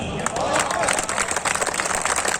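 A crowd at a Hindi poetry gathering, a kavi sammelan and mushaira, breaks into dense, sustained applause, a continuous wash of many hands clapping at once.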